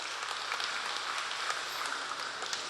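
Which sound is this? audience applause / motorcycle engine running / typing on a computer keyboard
audience applause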